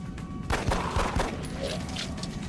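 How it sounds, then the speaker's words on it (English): Pistol fire in the video game XCOM Long War, a quick cluster of sharp shots over a busy, noisy game background, loud and close. "I'm going here, there, and just shooting a pistol."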